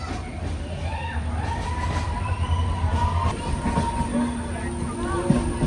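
A train runs through tunnels on the Sakleshpur rail route, a steady low rumble with thin metallic squealing tones from the wheels rising over it, and people talking nearby.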